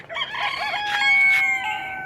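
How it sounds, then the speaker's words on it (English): Several roosters crow at once in a fenced-in backyard, their long overlapping calls stacking into a loud, close chorus that swells and holds for about two seconds with no talking. "I got a bunch of roosters crowing at the same time"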